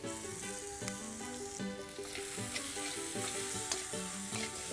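Boiled green moong being stirred in a hot kadhai, with a steady sizzle and rhythmic scraping strokes of a spoon against the metal, close and continuous.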